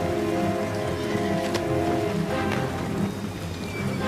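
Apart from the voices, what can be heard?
rain sound effect in a narrated battle story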